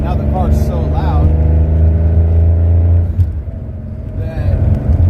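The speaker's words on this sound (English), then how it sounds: "But now the car's so loud" A heavily modified Porsche 911 with an extremely loud exhaust drones with a deep, steady rumble close by, easing slightly partway through before swelling again, while a person talks over it.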